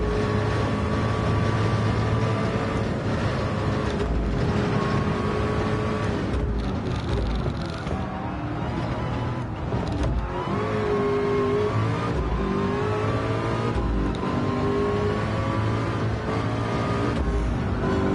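Race car engines roar and rev in a Le Mans endurance race in a PSVR2 video game, a sustained loud drone with rising and falling revs through gear changes, with no talking.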